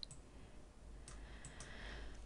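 A computer mouse gives a few faint, sharp clicks spread across the moment, including a quick pair, over a quiet background hum.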